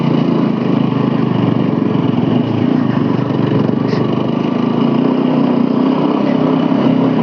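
An off-road vehicle's engine drones steadily and loudly as it climbs a hill trail at Mullanthand in Idukki, a constant close-up mechanical roar with no pauses throughout.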